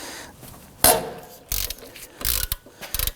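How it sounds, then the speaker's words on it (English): A hand ratchet loosens rust-treated front strut bolts on a 2005-2009 Subaru Legacy, clicking close up in several short, separate bursts with pauses in between. "I'm going to use my ratchet."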